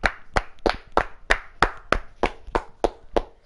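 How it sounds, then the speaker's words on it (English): About ten sharp hand claps in a steady rhythm, close and fairly loud, alone with no talk, amid a casual gaming session among friends. "Stop clapping"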